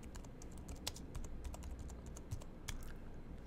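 Steady, fast typing on a computer keyboard, with dense, continuous key clicks close to the microphone and no talk.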